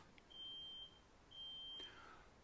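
Two long, high electronic beeps, each lasting about half a second, sounding faintly against a quiet background with a short gap between them.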